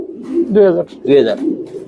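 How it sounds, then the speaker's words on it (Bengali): Sharanpuri pigeon, an Indian breed, cooing up close in two loud, throaty, rolling bursts over a steady low murmur. "সারানপুরি ইন্ডিয়ার একটা কবুতর জাত এটা অনেক সুন্দর একটা কোয়ালিটিফুল কবুতর"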